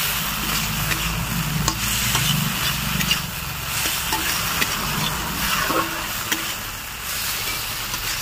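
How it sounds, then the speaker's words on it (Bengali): Pieces of already-fried crispy chicken are stirred through a spice mixture in a pan, giving a soft, continuous scraping and sizzling hiss at moderate volume with no talking. "ভালো করে মিশিয়ে নেব।"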